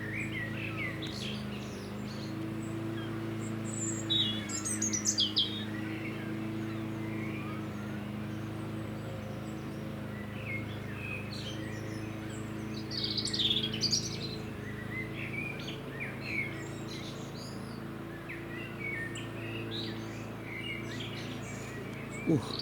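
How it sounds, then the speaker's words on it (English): A seagull attacking a buzzard over Cambridge, UK, gives a few scattered sharp calls in bursts, set against a steady low hum of distant traffic. "That's a buzzard being attacked by a seagull."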